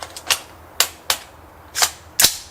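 Sharp, suppressed 300 Blackout rifle shots fired downrange at a clay target on an outdoor range, heard as several crisp cracks at uneven intervals, each fading quickly, with no talking.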